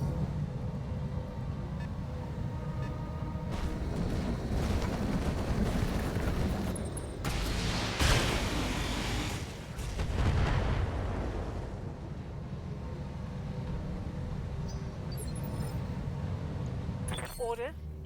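Artillery bombardment in the BattleTech video game, a long stretch of heavy rumbling explosions with dense blasts and a louder burst partway through, under radio-style voice callouts.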